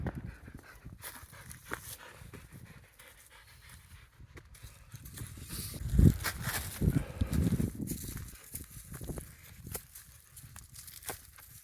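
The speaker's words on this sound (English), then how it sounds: "Some nice dogs walked with me for the end of this ascent" Dogs walking along a hiking trail, heard as close panting and soft footfalls on the ground, growing louder and busier partway through, with no talk.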